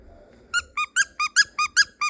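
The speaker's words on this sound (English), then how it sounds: "But I found this squeaky carrot toy." A squeaky plush carrot baby toy squeaks seven times in a quick, steady rhythm, each squeak close, bright and clear over a quiet room.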